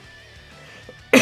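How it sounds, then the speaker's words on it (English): A single sharp cough from someone with bronchitis bursts out at the end after near-silence, close and loud. "Sorry, still coughing."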